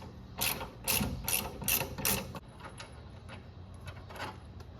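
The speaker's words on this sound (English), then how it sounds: "So I will go from the ratchet end and loosen it from there." Ratchet wrench loosening the nut on a sway bar end link, giving five loud bursts of rapid clicking in the first half, followed by quieter, sparser ratcheting clicks close by with no talking.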